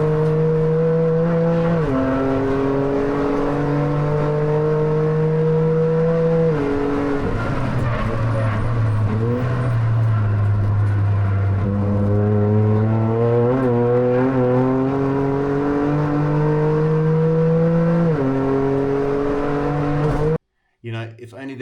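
A Toyota GR Cup race car's engine drones loudly on track, pitch stepping up and down through shifts and throttle pickup in corners, steady and close for about twenty seconds before cutting off abruptly near the end.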